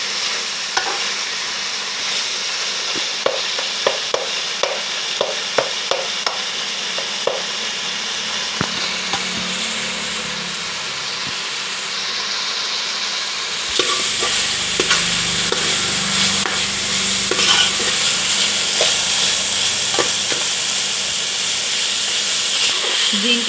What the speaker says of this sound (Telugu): ఇంకా వేగాలి, బాగా వేగాలి.